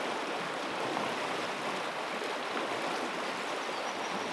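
A clear European river flows past a riverside camp, producing a steady, broadband rushing wash that stays even and continuous throughout, with no voices.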